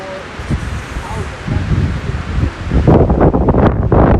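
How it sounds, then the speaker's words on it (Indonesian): Strong wind sweeps across Mount Abang in Bali, buffeting the microphone in rough, rustling gusts that build louder and more ragged toward the end. "inilah angin yang ada di Gunung Abang. Kencang sekali."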